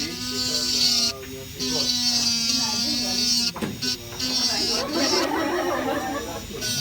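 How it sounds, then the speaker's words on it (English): A motorized grinder for smoothing whirs with a steady high whine in a diamond factory, stopping and restarting a few times while people talk nearby. "This is a grinder that he has actually."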